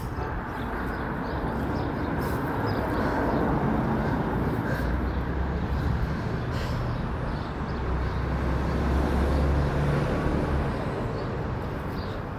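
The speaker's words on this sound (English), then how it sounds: "I think here comes the easyjet." An easyJet passenger jet landing at Belfast City Airport makes a broad, steady roar of engine and rushing air. It stays at a fairly even level throughout, with no clear talk over it.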